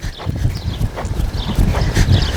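A ridden horse trots on firm ground, its hooves beating a steady, rhythmic clip-clop that is close and loud, with faint creaks of tack over the footfalls.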